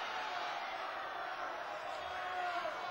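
A studio audience on The Price Is Right yells and screams in a steady, dense roar during the Magic Number pricing game, heard faint and continuous without any clear single voice standing out.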